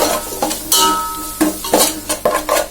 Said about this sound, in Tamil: லைட்டா வதக்கிக்கலாம்.